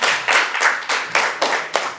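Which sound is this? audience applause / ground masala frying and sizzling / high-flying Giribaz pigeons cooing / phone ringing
audience applause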